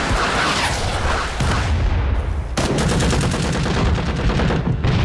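Close, loud gunfire in Rising Storm 2 Vietnam comes as rapid bursts of shots with heavy booms mixed in, then a sustained rattling string of fire after a brief dip.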